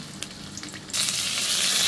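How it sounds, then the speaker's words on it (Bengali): Chopped onion hits hot oil in a heated wok and bursts into a loud, steady sizzle after a quieter moment of faint kitchen clatter, then keeps frying close and even. "পেঁয়াজটা লাল করে ভেজে নিচ্ছি।"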